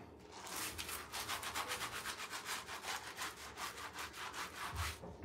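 A brush is scrubbed with soap suds in a steady, rhythmic back-and-forth, fairly quiet and close, with regular strokes continuing throughout and no talking.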